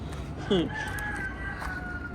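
Free-ranging chickens with a guinea fowl at a backyard garden in March, one short crow-like call rising out of steady outdoor ambience, with faint sustained tones continuing behind it.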